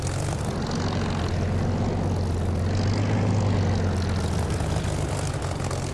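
In the DCS flight simulator, a Spitfire's piston engine drones in a steady, loud propeller hum with a low throbbing rumble that holds evenly throughout.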